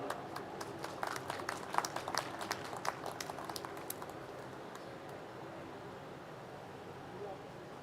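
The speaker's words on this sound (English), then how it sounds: "I think we can applaud for them." Scattered applause greets graduates at a convocation ceremony, faint and distant with sparse individual claps that taper off after a few seconds.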